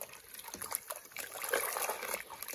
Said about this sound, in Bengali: কুমড়ো শাকটাকে প্রথমে ধুয়ে নেওয়া হলো